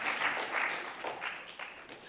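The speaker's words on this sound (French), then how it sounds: "Bonne main d'applaudissement pour Daniel qui se soucie de la prédicateur" A church congregation applauds a man named Daniel during a sermon: soft, somewhat distant clapping in uneven bursts, fairly faint overall.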